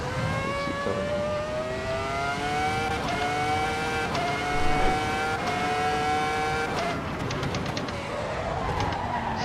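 Formula 1 car in the Assetto Corsa EVO racing game lapping Mount Panorama, its high-pitched engine screaming through repeated upshifts and rising revs, with brief tire squeal and a downshift near the end, loud and continuous.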